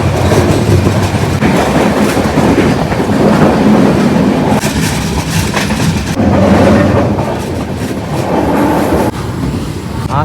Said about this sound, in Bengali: শিয়ালদা জয়নগর ট্রেন এখন ঢুকছে।